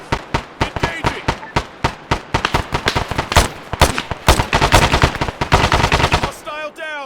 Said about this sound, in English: Armstrong, engage that machine gunner